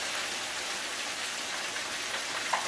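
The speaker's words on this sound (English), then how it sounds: "Alright, so let's pour" Vinegar poured over seasoned fish for Jamaican escovitch, a steady hissing, splashing pour that runs evenly throughout, close by.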